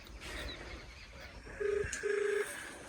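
A telephone rings in two short electronic tone bursts, moderately loud against faint room background, with no one talking over them.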